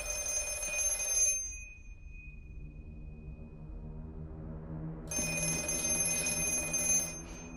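The black rotary phone in The Black Phone horror film rings with a sustained, shrill bell-like tone. It cuts off into a low droning hum, then the ringing returns. No voices.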